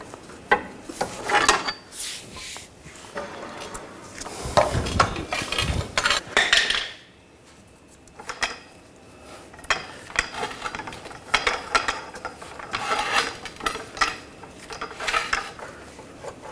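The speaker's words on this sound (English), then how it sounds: "Just going to use a 18mm ratchet wrench and just start screwing this in" An 18mm ratchet wrench drives a bolt while rear springs are fitted on a 2009-2017 Volkswagen Tiguan. Close, busy metallic clicking comes in bursts, with a brief lull partway through.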